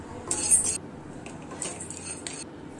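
A spoon scrapes and clinks against a pan as chana dal is stirred and roasted for dosa chutney, in a few short bursts of scraping, fairly close and moderately soft.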